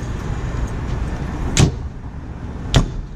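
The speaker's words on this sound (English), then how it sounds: "That door shuts first." An ambulance truck's doors shut twice, two sharp solid slams about a second apart over a low idling engine background, close and loud.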